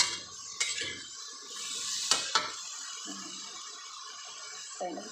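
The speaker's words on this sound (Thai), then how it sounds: "ผัดให้เขาสุก ให้สุกเลย ผัดให้สุกเลย" Eggplant stir-fried in a pan, with a steady sizzle and hiss under intermittent scraping and clinks of a utensil against the pan, plus a couple of sharp metallic knocks; close and moderately loud.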